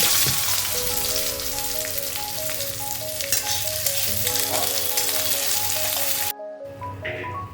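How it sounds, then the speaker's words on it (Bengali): A medium-sized chopped onion fries in a pan of cooking oil for a cumin-and-chilli rohu fish dish, giving a steady, close sizzle throughout with a melody playing in the background, then a brief cut near the end. "এবার আমি এতে দেবো একটা মিডিয়াম সাইজের কুচো করে কেটে রাখা পেঁয়াজ"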